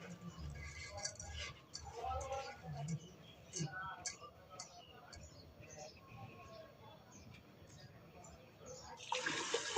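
Water poured onto washed khud (broken rice) in a pot for cooking, a steady splashing pour with brief bursts, fairly close, with light background chatter and a louder splash near the end.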